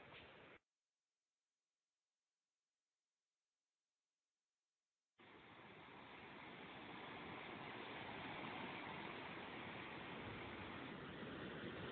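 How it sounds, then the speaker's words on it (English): A river flows beside a forest trail near Carter Falls at Mount Rainier National Park, heard as a faint, steady rushing hiss that cuts out briefly and then returns, growing slightly stronger. "You can hear the water over to the side here."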